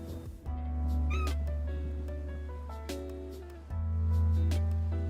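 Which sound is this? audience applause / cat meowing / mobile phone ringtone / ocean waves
cat meowing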